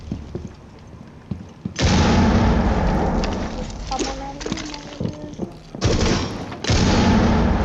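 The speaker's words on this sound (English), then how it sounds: "Throwing frag grenade." Frag grenade blast and gunfire in a first-person shooter video game: loud, sustained bursts of explosive and rapid gunshot noise come in two waves, with a brief quieter gap and some clattering between them.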